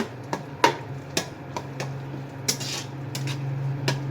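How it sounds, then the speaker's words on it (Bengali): Garlic being stirred in a pan for olive pickle, with a spoon clinking and tapping against the pan in irregular strokes over a low steady frying hum, close by with no talk. "এটা এইভাবে নেড়ে চেড়ে নেবেন।"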